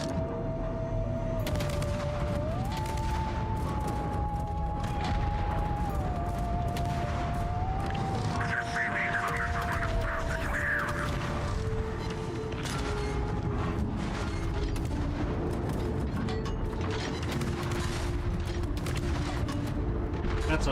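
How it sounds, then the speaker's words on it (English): A warship video game fills with many missiles launching in a loud, sustained barrage of overlapping blasts and whooshes, with rolling mechanical clatter beneath. It continues unbroken for about twenty seconds. "That's a lot of missiles."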